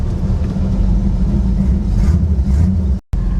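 Interior cabin sound of a cheap Chevy Nova fitted with a quickly built new exhaust system, a steady loud low rumble with slight revving swells, dropping out briefly near the end before resuming.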